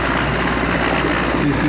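A Border Security Force helicopter flies overhead during a flag-hoisting ceremony, its loud, steady rotor and engine roar filling the moment with no voices.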